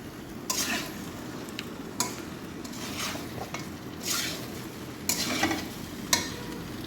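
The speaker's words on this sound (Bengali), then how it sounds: "মশলার সাথে চিকেনগুলো একটু কষিয়ে নেব ভালো করে।" Chicken and spices are stir-fried in a pan, with a soft sizzle running underneath and a string of sharp scrapes and clanks of a spatula against the metal, roughly one each second.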